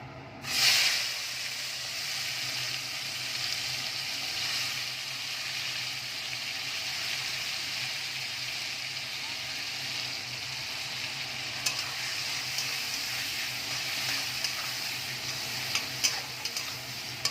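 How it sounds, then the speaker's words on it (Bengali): Shrimp seasoned with salt and turmeric fry in a pan, giving a continuous bright sizzle that follows an initial burst as they hit the hot oil, steady and close throughout with no voices. "এর মধ্যে আগে একটু নুন হলুদটা দিয়ে দিলাম, এবার চিংড়ি মাছটা আমি দিয়ে দেবো।"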